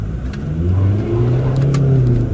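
A 2-litre diesel Mk2 Toyota RAV4 D4D engine revs up and accelerates steadily away in first gear, its low drone rising in pitch over a couple of seconds, close and loud.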